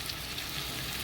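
A flour-and-milk mixture sizzles and bubbles in a frying pan as it is stirred, with a soft, continuous frying crackle that lasts about a second.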